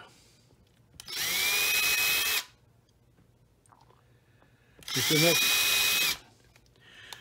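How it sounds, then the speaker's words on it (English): Two short bursts of a whining power drill boring a small, shallow pilot hole into wood for screws, each about a second long, separated by quiet with faint handling clicks. "I'm going to drill just a little tiny pilot hole"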